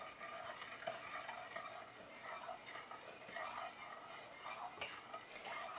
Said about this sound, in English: Now let's get that stirred up there